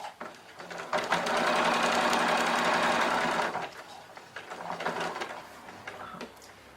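A sewing machine stitches steadily along a marked line with a 0.6 seam allowance, running as one loud continuous mechanical whir for a few seconds, then slowing into shorter stop-start bursts.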